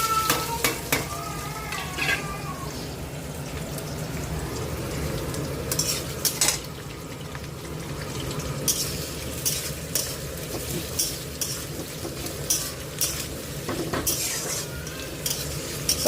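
Garam masala, bay leaves and onion sizzle and fry steadily in a pan, with occasional stirring scrapes and clinks of utensils against the metal.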